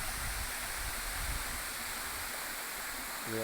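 Water falling from a hill toward a pond's earthen bund makes a steady, even rush of hissing flow, like a small waterfall, continuous and unchanging throughout.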